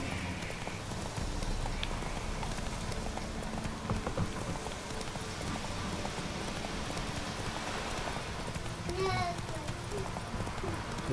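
Horse hooves in a video game, a steady clip-clop that runs continuously under someone talking, with a dense, noisy game soundscape behind it.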